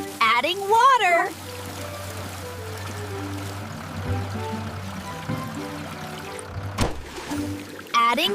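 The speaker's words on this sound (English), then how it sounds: "Adding water." Water pours into sand and mixing materials for concrete in a cartoon construction scene, a steady trickling stream with a low hum under it, and short voiced sounds at the start and end.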